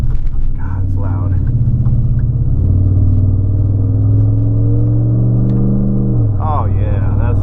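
A 2013 Ford F-150 pickup drones with a deep, loud, steady engine note while driving, rising slightly toward the end, as a person talks over it inside the cab.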